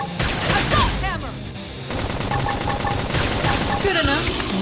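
Rapid bursts of gunfire from a combat attack in Xenoblade Chronicles X, loud and close, with a short pause before another volley of shots, mixed with game effects and voices.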